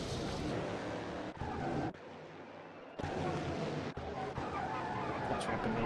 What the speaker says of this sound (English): All that brake squealing.